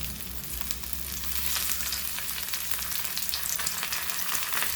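Bright, crackling hiss of anchovies frying in hot oil on a tawa, steady and close, with no voices.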